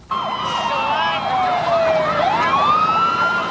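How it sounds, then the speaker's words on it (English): Wailing fire department emergency sirens rise and fall continuously, loud and close, with several overlapping tones sweeping up and down. "you could hear the sirens and all coming"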